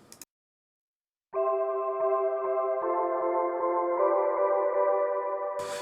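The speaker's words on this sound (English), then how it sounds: "This pad sound by itself sounds like this." Synthesizer pad in Ableton Live with a soft attack and a ringy, spacey character. A sustained chord enters after a short silence and holds steadily, with its tones shifting slightly as it continues, alone and at moderate loudness.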